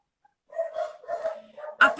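Dogs barking nearby, a short burst of several loud barks and yips that ends in one sharp, strong bark.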